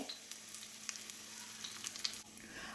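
Shallots and a cut dried red chilli fry in coconut oil for a cluster bean and potato curry, with soft steady sizzling and occasional small pops and crackles, fairly quiet and close, no voices.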